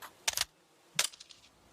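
Two sharp Desert Eagle pistol shots in Counter-Strike, a short burst near the start and another about half a second later, each with a crisp crack and brief trailing echo against quiet game background.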